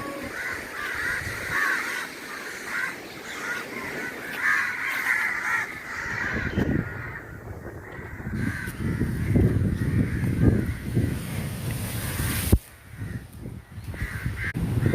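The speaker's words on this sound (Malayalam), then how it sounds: "കംപ്ലീറ്റ് കാക്കയാണല്ലോ എന്ത് പറ്റി" Crows caw repeatedly from several directions, loud and nearby, at Thirumullavaram Beach, with a steady outdoor hum and noisy movement beneath the calls.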